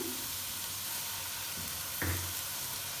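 Green chillies and spring onion greens hiss steadily in a pan over a medium-low flame, with a couple of brief stirring scrapes and a short louder sizzle burst partway through.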